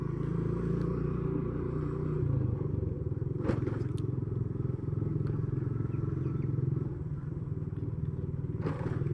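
A motorcycle rumbles steadily along a village road in Tambakromo, Geneng, Ngawi, with a couple of sharp clattering jolts as it rides over a speed bump made from a cut tyre.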